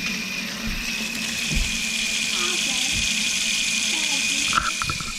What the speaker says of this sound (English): put water in the sink